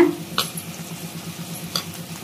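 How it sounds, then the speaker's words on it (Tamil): Bell pepper strips sautéing in a pan after tomatoes, with a low steady sizzle under a couple of brief scraping stirs of the spoon against the pan, no talking. "தக்காளி சேர்த்துட்டு 2 வதக்கு வதக்கிட்டு இப்ப பாருங்க, நம்ம கட் பண்ணி வச்சிருக்கிற குடமிளகாயை சேர்த்துடலாங்க"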